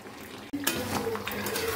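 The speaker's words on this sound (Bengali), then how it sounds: "এই মাংস থেকে যে জলটা বেরিয়েছে এটাতেই অনেকটাই মাংসটা কষানো হয়ে যাবে। লো ফ্লেমে করছি।" Mutton being braised (kosha) with tomato over a low flame, heard as a brief stretch of soft stirring and scraping clinks against the pot over a low, steady background.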